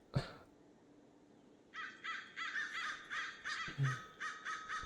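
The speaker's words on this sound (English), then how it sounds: "The crows are again here." Crows in the game RLCraft, a Minecraft modpack, cawing in a steady series of loud, harsh calls. A sharp click comes first, then the caws repeat rhythmically and close by.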